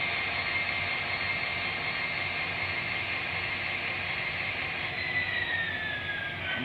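An MTH SD70ACe model locomotive in UP 1988 Katy MKT livery runs past at a set speed, a faint steady whirring hum with a slight pitch drop as it passes, no talking.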